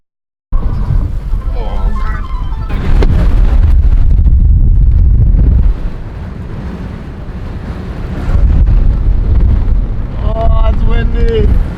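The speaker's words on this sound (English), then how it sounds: "It's so windy!" Strong wind roars in a snowstorm near a glacial lagoon, buffeting the microphone in heavy continuous gusts that ease briefly and then surge again, with people talking and exclaiming over it.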